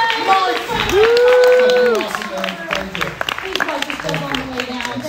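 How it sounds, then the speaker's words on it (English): An audience at a Universal Studios horror makeup show applauds and cheers for the volunteer Mike, with a whoop over the clapping and a host talking through it. "A round of applause for Mike!"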